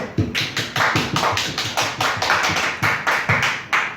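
Church congregation at a Sunday worship service clapping in unison, a rhythmic series of sharp, loud hand claps roughly twice per second, close and continuous with no talk over it.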